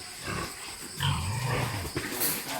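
A pig on a farm gives a low, drawn-out grunt lasting about a second, close and fairly loud, over rustling farmyard noise with no clear talk.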